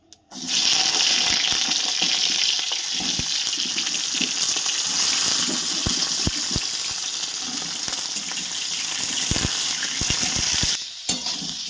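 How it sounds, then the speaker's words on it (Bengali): Eggplant pieces frying in a pan give off a loud, steady sizzle that runs continuously for several seconds, close up, with faint utensil taps and no voices. "এবার আমি বেগুনগুলোকে ভেজে নেব"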